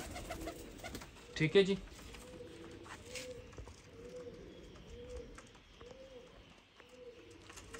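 A female pipla-marked pigeon and others coo in a steady series of low, rounded calls at close range, after a brief louder scuffle near the start, with someone speaking briefly.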